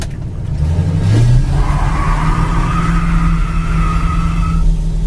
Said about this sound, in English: 289 two barrel, still squeal the tires.